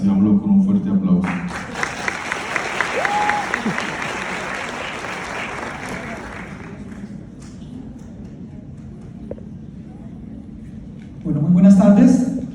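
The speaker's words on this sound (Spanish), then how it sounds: "Recibámoslo con un fuerte aplauso" An audience applauds a speaker being welcomed at an academic lecture, loud steady clapping that gradually thins and fades, with a voice speaking over it at the start and end.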